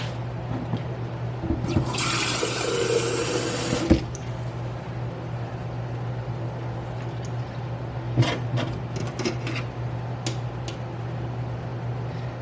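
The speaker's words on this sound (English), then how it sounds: "I'm just going to add water to this and then rinse them out" Tap water pours over garden seeds being rinsed, a steady broadband rush for about two seconds that then stops, leaving low room hum and a few faint clicks.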